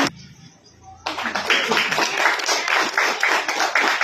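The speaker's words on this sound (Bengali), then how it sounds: "একটু জোরে হাততালি হয়ে যাক, এতগুলো মানুষ আছে, সারা পাড়া জেগে উঠুক।" Theatre festival audience clapping, breaking in after a second of near-quiet into dense, close, sustained applause with a lively uneven rhythm.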